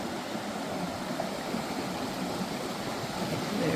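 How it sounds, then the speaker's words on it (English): Waterfalls and rushing creek water along Sweet Creek Falls Trail, a mountainside catwalk route: a continuous broad roar of falling water that stays steady and fairly full, swelling slightly toward the end, with no talking. "There's more waterfalls."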